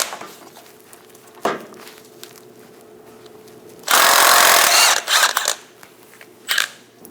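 A power tool with a 21mm socket spins off a nut on the idler arm bracket of a Chevrolet Express 2500, one loud sustained whirring burst followed by a few short blips, close-up amid quieter workshop noise.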